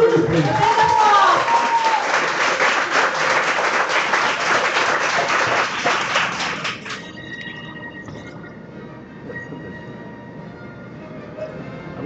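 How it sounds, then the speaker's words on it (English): An audience at the MSI MOA 2014 event breaks into loud, dense applause for about seven seconds before it cuts off, leaving quieter room noise and scattered sounds. "So, applause for you"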